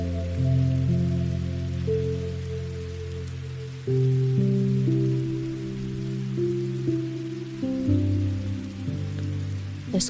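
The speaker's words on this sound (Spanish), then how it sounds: "Escuchar el agua caer es muy relajante." Rain patters steadily on various surfaces, a soft wash of drops under sustained, gently changing musical tones.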